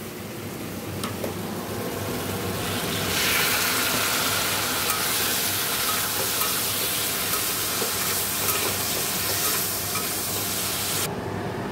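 Cumin, coriander, Kashmiri chili powder and other ground spices fry with eggs in a pan as a splash of water is added, a loud, steady hissing sizzle that surges partway through and continues unbroken, without voices.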